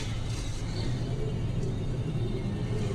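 A truck engine rumbles low and steady as the driver downshifts to eighth gear, a constant close drone with no clear revving change.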